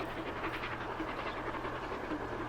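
A train in Transport Fever 2 rolls past on a UK highland line, giving a quiet, steady low rumble with faint rhythmic clatter of wheels, heard alone without any talking.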